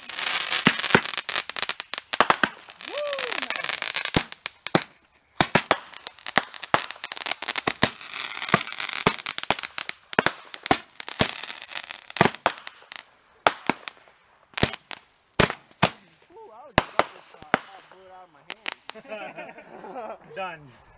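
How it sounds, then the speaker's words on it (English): Fourth of July fireworks shooting off five exploding balls: a rapid run of loud, sharp cracking bangs, some in quick bursts and others spaced, close by, with people talking faintly between blasts. "This one got 5 balls in it and they explode."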